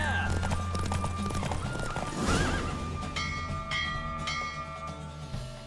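In The Witcher 3 video game, a horse gallops during a race with rhythmic hoofbeats and a loud whinny midway, accompanied by wind, bell-like tones and game ambience.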